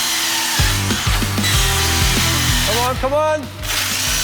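A DEWALT POWERSTACK battery-powered cordless tool makes repeated cuts, giving loud buzzing bursts in quick succession with a rising whine near the end, while a voice briefly urges it on.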